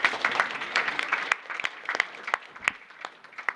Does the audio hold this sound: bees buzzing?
no